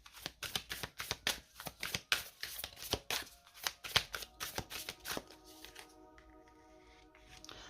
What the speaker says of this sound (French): Alors, je vais mélanger mon deuxième tarot rapidement.